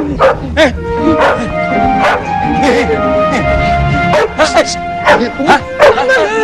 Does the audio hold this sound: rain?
no